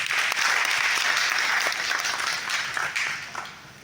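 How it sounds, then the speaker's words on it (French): An audience at an intercultural dialogue panel in Burkina Faso bursts into sustained applause, a dense wash of many hands clapping that stays loud before thinning slightly toward the end. "Je vous demande de l'applaudir, s'il vous plaît."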